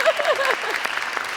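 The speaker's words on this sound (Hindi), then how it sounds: "उनके लिए तालियां सबसे पहले।" Studio audience applause on a Pakistani talk show set, a brief burst of clapping heard close under a voice speaking over it.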